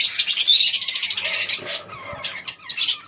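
A caged pair of violet-masked pet lovebirds chirps in quick bright bursts, dense and continuous at first, then breaking into shorter separated calls, close and clear.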